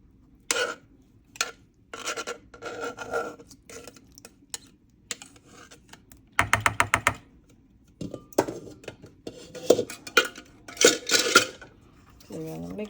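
Sweet potato pudding batter for a Jamaican dessert being mixed in a bowl, with scattered clinks and scraping of a utensil against the dish, some bursts of rapid tapping, and people talking intermittently over it.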